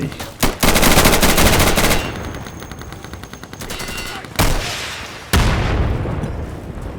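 Gunfire in the video game Insurgency: bursts of rapid automatic fire crack out loud and close, broken by a few sharp single shots, with quieter distant shooting between the bursts.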